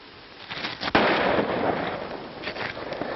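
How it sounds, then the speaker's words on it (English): A single sharp gunshot in a 1932 western film cracks out loudly, its noisy tail ringing and fading over a few seconds of rumbling background. "You've shot your own son!"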